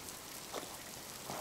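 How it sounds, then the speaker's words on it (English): Rain falls steadily outdoors at a remote fly-in cabin, a soft, even hiss with faint scattered patters and no voices. "you can see it's raining"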